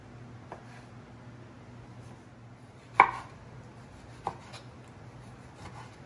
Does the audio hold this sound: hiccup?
no